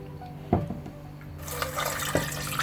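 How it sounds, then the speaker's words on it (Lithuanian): Water is poured into a salted marinade for pork chops after a few soft knocks, becoming a steady, close splashing fill. "Ir užpilame vandenį."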